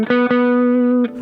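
Electric guitar through a Blackstar HT5 amp on the dirty channel with gain turned down, nearly clean: a couple of quick picked attacks, then one sustained ringing note with a bright harmonic tone, cut off at the end.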